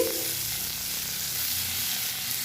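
Chopped onion frying in hot fish oil from katla fish, a steady, dense, close sizzle with a hissy texture, continuous and even throughout with no voices.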